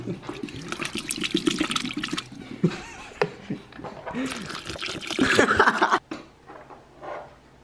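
Water is poured, splashing and running in bursts onto a pumpkin amid nearby voices and commotion, with a louder gush near the end before it cuts off.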